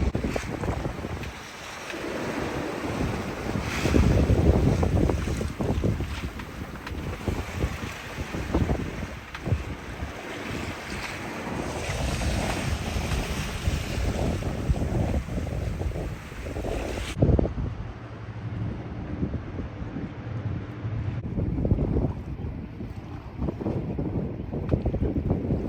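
A sailboat beats upwind toward San Juan, slamming through waves with steady wind buffeting the microphone and water rushing and crashing against the hull in a loud, continuous roar for the whole stretch.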